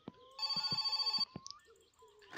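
An old-style telephone rings in the My Summer Car video game: a loud, rapid metallic bell trill lasting nearly a second, with short clicks and a faint tone around it.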